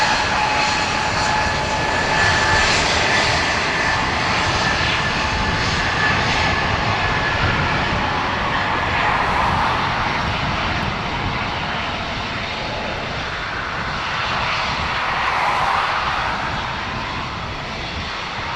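Lufthansa Airbus A321 jet engines roar at Dublin Airport, a broad continuous rush that swells and eases slightly over time, heard alone without talk.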